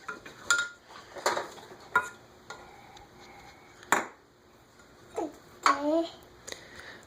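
A child stirs in a kitchen pot, making light metallic clinks and scrapes of a utensil against the pot in uneven bursts, close by, while a child babbles and an adult speaks.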